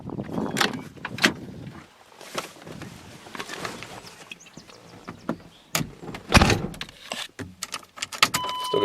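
A restored car with a new drive shaft and steel rims gets ready to set off, with keys jangling, door and window clunks, and sharp handling knocks up close, irregular and with no speech.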